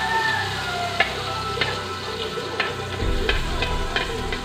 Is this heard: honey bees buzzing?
no